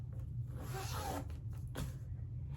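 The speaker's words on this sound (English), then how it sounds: "I'm going to unzip it" A faint zipper pulls open in a couple of quick rasping strokes over a low, steady background hum.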